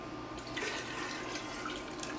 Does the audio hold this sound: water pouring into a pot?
yes